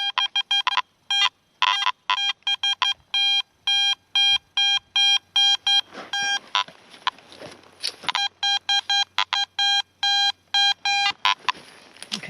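A metal detector sweeping for buried silver in an old cellar site gives loud, repeated electronic beeps in quick bursts, with short pauses and a few longer tones, and no voices over it.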